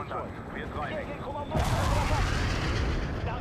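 Explosions of buildings blowing up during a World in Conflict: Soviet Assault battle, a loud broadband blast erupting midway and rumbling on with heavy low-end crackle over earlier background battle noise.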